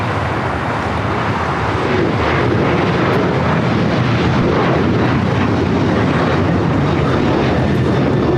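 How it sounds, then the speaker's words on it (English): An American Airlines Dreamliner rolls along a taxiway at LAX, its jet engines a loud, steady broadband roar that holds constant throughout. "American Dreamliner wasting some time there on the taxiway before heading into the gate."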